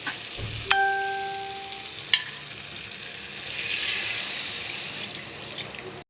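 Broth poured into a pan of frying potato and pointed gourd curry, a brief splash followed by steady sizzling that swells and fades over several seconds, fairly close and without talk.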